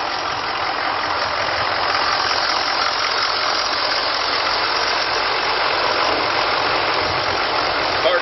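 A 2004 Ford F450 XLT diesel truck engine idles with the hood up, a steady, loud, even rumble with a constant clattering texture and no talk over it.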